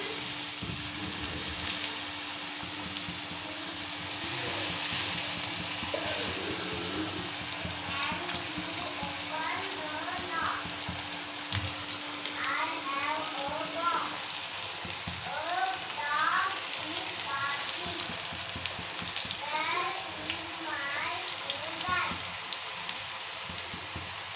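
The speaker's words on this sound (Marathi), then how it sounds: "आता हे आपल्याला सोडायचं आहे. आपलं तेल मस्त छान तापलेलं आहे." Coated raw banana slices fry in hot oil with a steady, dense crackling sizzle that runs the whole time. Faint chirpy sounds and a low hum sit in the background, and no one speaks.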